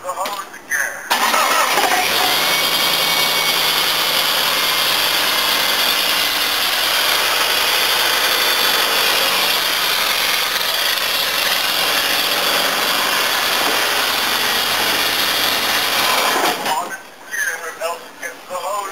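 A Ford car engine cranks and catches, then runs loudly and steadily at close range for about fifteen seconds before shutting off, with brief handling noises at each end.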